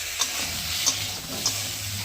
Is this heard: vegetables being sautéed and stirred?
yes